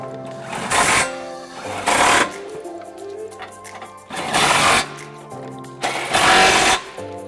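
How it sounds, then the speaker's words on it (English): A power tool with a 21mm swivel socket tightening trailer hitch bolts on a 2015 Jeep Grand Cherokee, four loud buzzing bursts of about a second each, separated by quieter gaps. "now using our 21mm swivel socket, we're going to go ahead and tighten it up"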